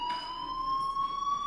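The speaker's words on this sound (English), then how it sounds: "Hey, do you hear that fire alarm?" A fire alarm in the video game Life is Strange rings as a steady, piercing electronic tone held without pause, loud and alone with no voices.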